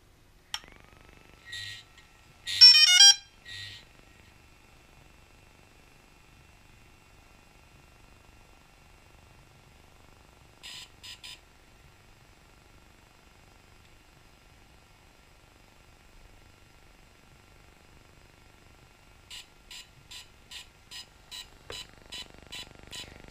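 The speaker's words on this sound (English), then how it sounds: "So, that noise you hear is the firmware upgrading," A DJI Phantom 3 drone emitting electronic beeps while its firmware upgrades: scattered short chirps and beep bursts separated by quiet gaps, ending in a rapid run of regular beeps.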